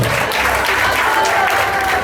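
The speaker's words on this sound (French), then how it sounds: "On peut l'applaudir encore pour ça" Audience applause at a live event fills the space, a steady dense wash of many hands clapping together, loud and continuous throughout, with a few voices faintly mixed in.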